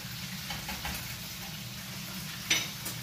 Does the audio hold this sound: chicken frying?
yes